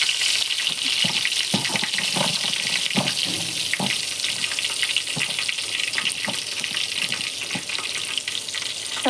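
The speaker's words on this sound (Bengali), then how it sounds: "বেগুন ভাজা করছি" Brinjal slices frying in a pan make a steady, close sizzle and crackle, with occasional clicks and stirring sounds, running continuously with no talking.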